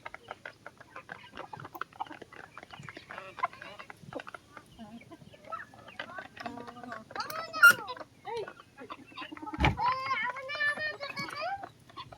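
Free-range domestic chickens and roosters cluck and call around a rural Bangladeshi homestead, bursts scattered through the clip amid background speech, with one louder squawk near the end.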